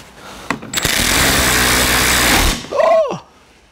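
A power tool whirs steadily for about two seconds while working a 2019 Subaru Forester tail light loose, the close, loud drone followed by a short startled vocal exclamation.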